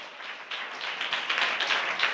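A church congregation claps hands raised overhead, a steady, dense patter of many hands that swells slightly toward the end, fairly quiet and with no talking over it.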